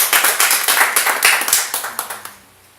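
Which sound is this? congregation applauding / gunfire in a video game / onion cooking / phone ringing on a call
congregation applauding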